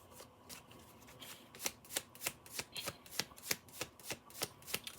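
Tarot cards are shuffled by hand in a quick, regular series of crisp riffling slaps, about three per second, close and fairly soft with no voices.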